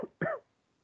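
A short cough, a brief faint burst at the start followed by one stronger throaty cough, then quiet.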